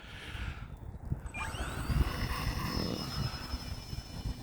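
Small electric E-flite Valiant 1.3m RC airplane taking off with zero flaps, its motor whine rising in pitch as it accelerates, steady and fairly close over gusty wind noise.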